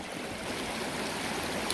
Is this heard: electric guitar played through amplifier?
no